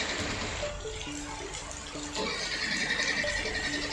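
Heavy monsoon rain pours down on flooded streets in Pandharpur, a steady broad wash of falling and rushing water filling the whole clip with no voices.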